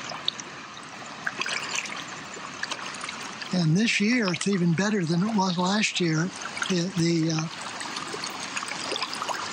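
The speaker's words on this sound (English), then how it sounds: "This area has been designated as a wild and scenic river." A wild and scenic river flows steadily with a continuous rushing, trickling wash throughout, while someone talks over it for a few seconds in the middle.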